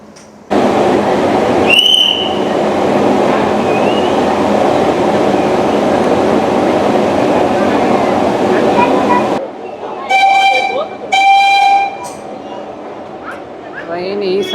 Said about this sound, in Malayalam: ട്രെയിൻ ഈ സൈഡിലോട്ടാണ് പോകുന്നത്.